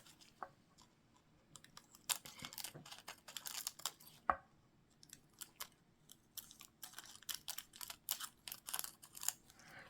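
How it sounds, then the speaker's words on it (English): Scissors snipping through thin fantasy film, cutting it into strips: a quiet, irregular run of crisp close-up cuts and rustles with short pauses between them, and no one talking. "Basically what you do is you just cut into strips."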